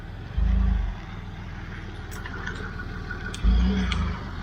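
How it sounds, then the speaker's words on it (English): A Land Rover Discovery 3 engine runs at a steady low rumble nearby, with two brief louder surges of deep bass near the start and again a few seconds later. "He sounds like a really healthy Discovery"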